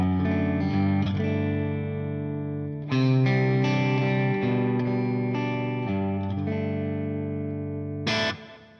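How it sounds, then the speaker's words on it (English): Electric guitar through a Boss Katana amp into a Two Notes Torpedo Cab M cabinet emulator, a few sustained, ringing distorted chords and notes played up close and alone, ending in a sharp strum and fade. "I've gone into the Two Notes Torpedo Cab M,"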